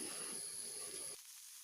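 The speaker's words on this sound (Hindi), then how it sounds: "इसको लाल होने तक, पकने तक मैं इसको इस तरह से हिला हिला के पकाऊंगी" Chopped onion sizzles in a pan for soyabean curry, a steady close hiss of frying that cuts off abruptly near the end, leaving only faint high noise.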